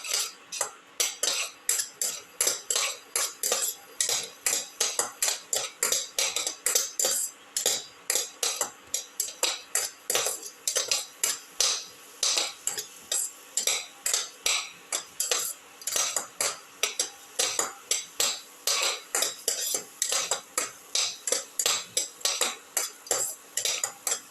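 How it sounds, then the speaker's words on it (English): Metal spoon scraping and clanking rhythmically against a pot while sautéing a chicken and potato mixture, fast repeated strokes continuing evenly throughout, close and clear with no talk. "Keep on sauteing."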